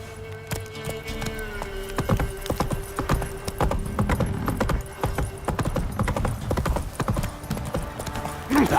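Roach the horse's hooves clip-clop in a steady walking rhythm in The Witcher video game, close and clear, with a brief neigh-like sound near the start and game ambience underneath.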